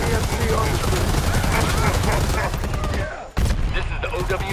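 Dense, sustained automatic gunfire from the Hammerhead weapon in Predator: Hunting Grounds, a loud rapid burst close up that briefly cuts off near the end and then resumes.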